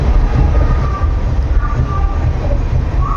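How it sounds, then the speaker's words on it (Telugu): The Vivek Express rushes along the rails, a loud, close, continuous rumble of wheels and carriages with faint rhythmic clatter from the track. "మన ట్రైన్ అయితే వివేక్ ఎక్స్ప్రెస్ ట్రావెల్ చేస్తూ ఉంది"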